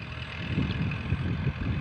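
A tractor plowing a rice paddy gives a low, continuous engine rumble with an uneven throb, moderately loud and unbroken for the whole stretch.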